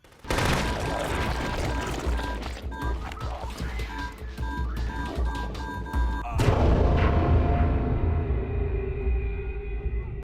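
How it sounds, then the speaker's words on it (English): Mine blasts and gunfire from The Conduit, a shooter on the Wii, come as a loud, dense stretch of booms and shots. A heavier explosion near the end leaves a deep rumble behind it, and no one speaks. "trying to safely detonate them without getting your head shot off or blown up by a mine"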